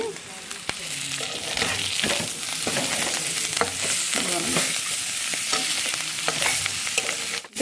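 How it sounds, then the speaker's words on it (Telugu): Chicken fry curry being stirred in a pan after coriander is added, with a close, continuous sizzle broken by repeated scraping strokes and clinks of the spoon, with no talking. "కొత్తిమీర వేసుకొని కలిపేసుకుంటే కర్రీ రెడీ అయిపోయినట్టే"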